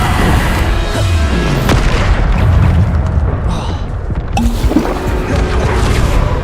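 Explosive blasts of the Bombarda spell in Hogwarts Legacy, a series of deep, loud booms with rumbling low-end over dense game noise, including a sharp crack near the middle and another burst toward the end.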